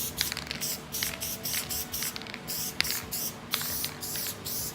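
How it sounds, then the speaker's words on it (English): Spray adhesive hisses from a can onto fabric and an interior panel of a Cabriolet, coming in repeated short bursts with brief gaps between them, close and fairly quiet. "You wanna spray it on the fabric and the panel itself too."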